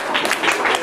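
Brief applause from a comedy show audience, a short burst of clapping that swells and fades in uneven waves.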